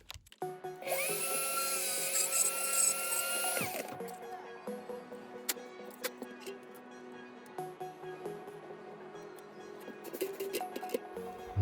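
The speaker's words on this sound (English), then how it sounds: "Drill a hole here" A power drill whines loudly for a few seconds, drilling wiring holes in a model build, then stops, followed by faint clicks and light handling noises nearby.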